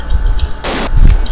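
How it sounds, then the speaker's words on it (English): Sniper rifle shots in a dinosaur shooter video game, a loud sharp blast followed quickly by a second heavy boom, close and punchy against a low rumble. "We shot each other at the same time! We both sniped each other"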